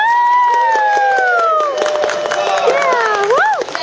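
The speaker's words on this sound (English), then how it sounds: "Let's do one round of applause for everybody." At an anime convention voice-actor try-out, an audience breaks into loud whoops and cheers over rapid clapping, with rising and falling 'woo' shouts ringing out close and lively above the applause.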